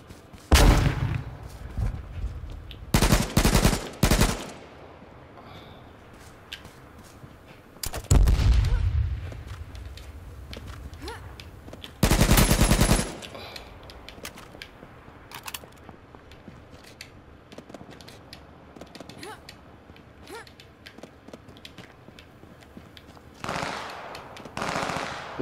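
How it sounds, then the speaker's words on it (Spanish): Bursts of automatic gunfire during a battle in the online survival game H1Z1, several loud rattling volleys at varying distances, separated by quieter stretches of ambient game sound. "También tiros por aquí, me parece."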